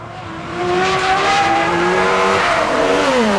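A car drives along a road, its engine swelling from quiet into a sustained loud revving drone with rising and falling pitch and a hint of tyre noise, close and without any voices.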